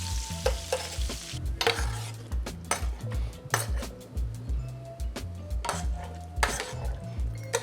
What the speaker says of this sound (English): I'm gonna start adding my meatballs straight from the pan into the sauce